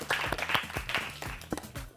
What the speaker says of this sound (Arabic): صفقوا له صفقه كبيره.